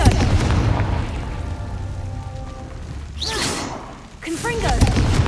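Blasting Confringo spell explosions in the Hogwarts Legacy video game, two bursts near the end with crackling and whooshing effects layered over a low rumbling game soundtrack.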